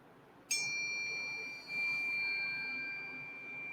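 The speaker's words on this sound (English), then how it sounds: "I got my little chimes" A single bright chime strikes and rings out, its clear high tones sustaining and slowly fading over a quiet background.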